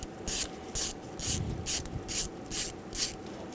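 Ratchet socket wrench with a 10mm socket loosening a bolt on a 2010-2014 Subaru Outback 2.5L H4 engine, a series of about eight close, rhythmic ratcheting clicks in regular strokes.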